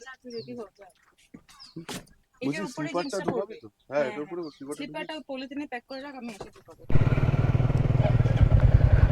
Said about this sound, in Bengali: বাইক স্টার্ট দিলাম